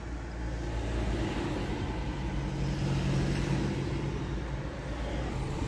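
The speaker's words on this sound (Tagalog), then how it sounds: "Traffic is real." Road traffic in Manila forms a steady, dense rumble of cars, trucks and buses, idling and crawling nearby at an even, moderate loudness for the whole stretch, with no voices.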